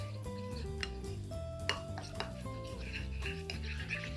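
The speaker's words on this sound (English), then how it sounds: "let's just do like a pinch of instant espresso and our chocolate chips. And we're going to mix these until they melt." Spoon stirring instant espresso and chocolate chips in a bowl until melted into ganache, a close run of clinks and scrapes against the dish over a low musical background.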